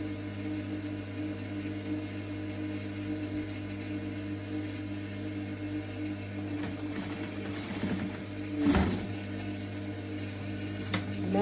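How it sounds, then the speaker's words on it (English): A sewing machine stitches a plunging yoke neckline, running briefly in the second half as a quiet whirring rattle over a steady low room hum. "just notch it a little bit and continue with the sewing"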